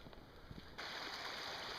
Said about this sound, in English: here's a stream that's pure glacier runoff